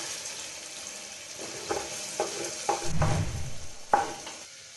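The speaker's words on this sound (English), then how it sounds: "We are going to add the onion which we have cut." Cut onions, two to three of them, going into a pan for a Tamil Nadu style mutton dish, giving soft sizzling with a few scraping stirs and a louder clatter midway, close and steady without talk.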